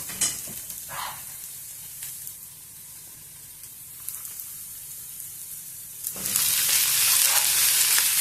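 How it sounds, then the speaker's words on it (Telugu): Brinjal pieces and onion fry in a pan with a steady sizzle that fades to a quieter hiss midway, then surges into loud, bright crackling near the end, with a few stirring scrapes and no speech. "ఉల్లిగడ్డ వేగింది ఇప్పుడు వంకాయల ముక్కలు వేసుకున్నాము"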